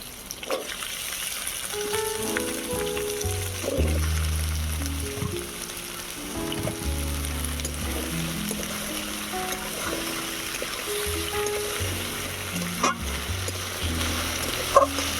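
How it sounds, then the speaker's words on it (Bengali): Taro and yardlong beans frying in oil in a village kitchen, a continuous sizzle with stirring and scraping in the pan, and faint outdoor bird calls behind. "সবজিগুলো এবার তেলের মধ্যে একটু ভেজে নেব।"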